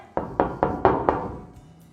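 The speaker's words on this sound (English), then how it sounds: "Did you know that sheet metal could make noise? I mean, you can make noise by knocking on it." A thin sheet of metal is knocked five times in a steady, even rhythm, each hit a sharp close tap with a brief ringing decay, with no voices.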